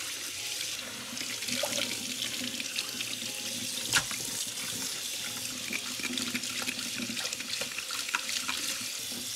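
Tap water runs steadily into a sink while a sea bream is rinsed clean, a continuous close splashing with small clicks and knocks of handling throughout.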